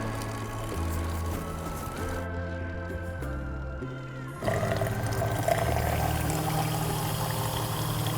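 Warm water pours in a steady, continuous stream close by, the flow changing pitch partway through and growing fuller and louder toward the end.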